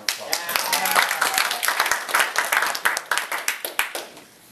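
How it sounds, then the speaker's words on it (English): Audience applause at a speaker showcase event: sustained clapping from a crowd, loud at first and thinning to scattered claps before fading, with some talk mixed in. "I think you should give yourselves a round of applause."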